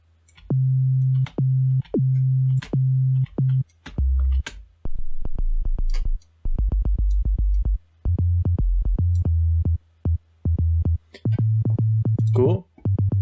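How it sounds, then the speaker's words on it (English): Deep synthesized 808 sine-wave bass notes play in a stepping sequence for a hardstyle track, each a sustained low tone with a short clicky pitch-bend attack, changing pitch between hits. "for making an 808, you need a sine wave"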